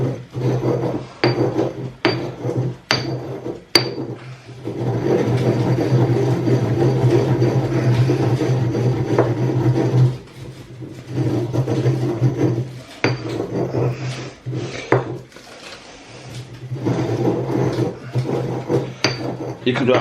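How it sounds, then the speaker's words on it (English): Salt grinding by hand while preparing a British Sunday roast, heard as repeated rasping, gritty crunches in short bursts over a steady low kitchen hum, with a longer continuous grinding stretch in the middle. "You could actually probably spend most of this video watching me grind salt."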